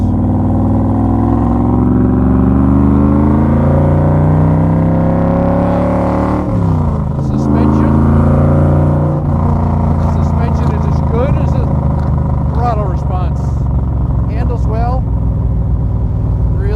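A Factory Five Cobra is road tested on a winding stretch, its engine droning loud and close with steady harmonics, then a sharp shift and renewed revving as it heads into the S-bends, with someone talking over it.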